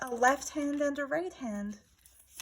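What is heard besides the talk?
None of the usual background noises is heard.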